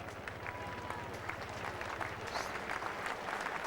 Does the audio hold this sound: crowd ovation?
yes